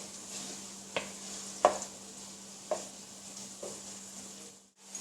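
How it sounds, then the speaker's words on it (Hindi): Onions sizzle in a hot pan for an Afghani omelette and shakshuka, a soft steady frying hiss broken by a few sharp stirring clinks and scrapes, close and fairly quiet with no talk. "अब मैं इसमें प्याज डालूँगी और इसको भी 2 से 3 मिनट के लिए फ्राई कर लूँगी।"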